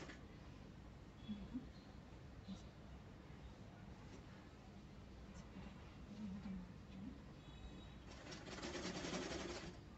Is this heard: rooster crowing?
no